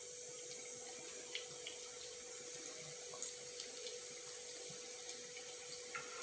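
Fish fried Kerala-style in hot coconut oil gives a faint, steady sizzling hiss with scattered small crackles and pops, and no voices.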